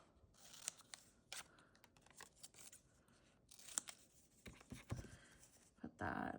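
Scissors snip through paper for a junk journal in a run of short, irregular cuts, some sharp and crisp, with soft rustling of paper between them, close and fairly quiet with no talking.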